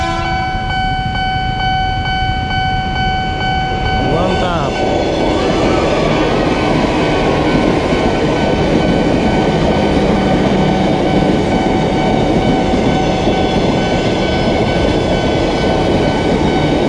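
A KRL JR 205 electric train passes on a delivery run near Solo, a loud, sustained rumble and roar of rolling wagons with a rising tonal whine, continuous throughout and close by.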